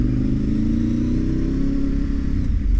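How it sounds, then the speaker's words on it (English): A loud, rumbling Ducati motorcycle engine drones steadily up close, with a rough, throbbing low growl and no voices. "Shake, rattle and roll, the Ducati soundtrack."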